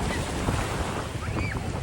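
Sea surf washes and rushes continuously at the shore while a Redmi Watch 2 Lite is worn swimming in the sea, with heavy wind buffeting the microphone throughout and no voices.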